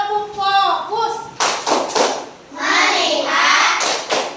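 A classroom of children doing a rhythmic focus clap led by a teacher, sharp group claps in short patterned bursts mixed with chanted voices and an adult speaking.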